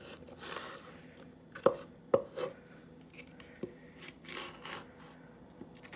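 A not-very-sharp kitchen knife chops celery stalks on a board in a few separate crisp knocks, spaced unevenly and fairly quiet, with soft handling sounds between.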